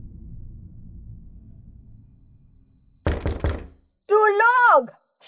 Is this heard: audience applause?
no